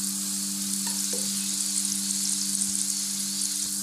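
Chana dal and turmeric fry in oil for lemon rice, a steady close sizzle with a few light stirring taps and a constant low hum underneath.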